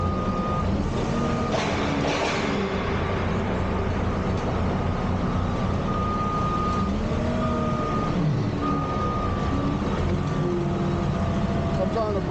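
Forklift reversing alarm in a Skechers warehouse in Moreno Valley, California, steady repeating beeps over loud truck and engine rumble, with occasional clanks and people talking nearby.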